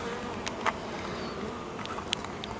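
Honey bees hum steadily around a beehive during queen introduction, a continuous close buzz with individual bees flying past the mic in brief louder passes.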